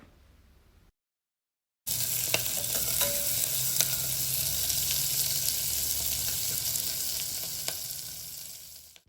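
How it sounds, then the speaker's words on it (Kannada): Black pepper and cumin seeds roasting in a hot pan for cucumber sweet corn soup, a steady loud sizzle with scraping stirs that starts abruptly after a short silence and runs continuously without talk. "ಮೆಣಸು ಜೀರಿಗೆ ಇಷ್ಟನ್ನು ಹಾಕಿ ಸ್ವಲ್ಪ ಹುರ್ಕೊಳ್ಳೋಣ"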